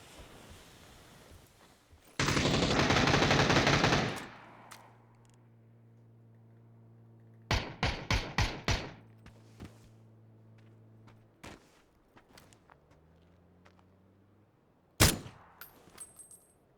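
Shotgun blasts and gunfire in the video game PUBG: a long loud burst, then a rapid cluster of sharp shots, a few scattered pops and one last heavy blast, with ringing tones between.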